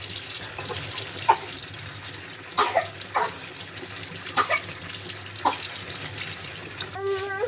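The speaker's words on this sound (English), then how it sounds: "always remember to wash the eggs" Tap water runs steadily into a kitchen sink while eggs are rinsed before baking a sponge cake, a continuous hiss with occasional clinks and splashes, close and moderately loud.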